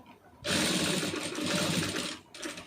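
A sewing machine runs steadily for about two seconds while stitching falls onto a saree, a close, continuous mechanical whirr that stops abruptly, with a brief burst of stitching resuming at the end.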